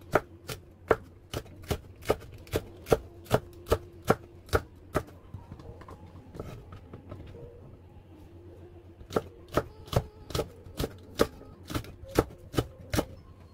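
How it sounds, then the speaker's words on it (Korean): Knife chopping green chili peppers on a board, sharp rapid regular taps in two bursts with a short pause between, close and crisp. "송고추, 송고추도 송송 썰어주세요"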